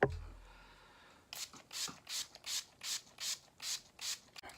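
About nine quick, evenly spaced spritzes of Wet n Wild Photo Focus Natural Finish setting spray from a small bottle hiss close by in a steady rhythm, after a brief clunk at the start.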